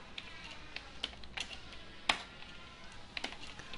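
Keys clicking on a computer keyboard while writing in MS Word 2003, a sparse run of light taps with one sharper keystroke midway, close and alone.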